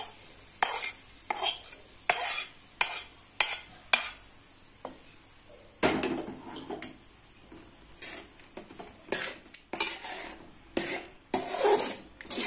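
Fried raisins and cashews being stirred into jackfruit halwa in a pan, with repeated close scraping and clinking of a spoon against metal in an uneven rhythm, plus faint sizzling, and no talk.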